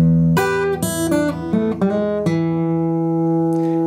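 Blues guitar lick with pull-offs and hammer-ons, a quick run of clean single notes walking down and settling onto a sustained ringing note, played alone and up close.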